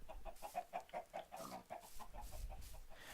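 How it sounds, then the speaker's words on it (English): Chickens clucking at a double-gated coop, a run of short, evenly spaced clucks at moderate distance, with no talking over them. "I always had the issue of these chickens running away"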